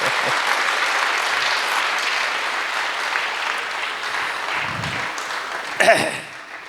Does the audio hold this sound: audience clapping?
yes